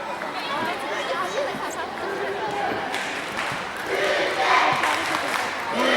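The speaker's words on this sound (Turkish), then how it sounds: "Her iki takımın voleybolcu Göztepe'li taraftarlar alkışlar" Göztepe volleyball fans applauding in an indoor arena, a broad steady wash of clapping and crowd noise that swells louder toward the end, with babble and a commentator talking over it.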